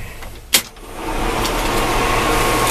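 A truck engine cold start: a sharp mechanical click, then a steady close engine drone that builds and settles into a loud running rumble, with no voices.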